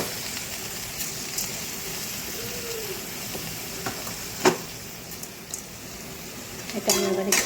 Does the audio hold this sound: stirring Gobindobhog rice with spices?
yes